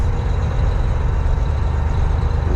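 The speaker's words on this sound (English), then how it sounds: "engine brake helps slow you down so I don't have to use my brakes" A truck with a 13-speed manual transmission rumbles under engine braking in 9th gear, a steady, loud low drone heard from inside the cab with no talk over it.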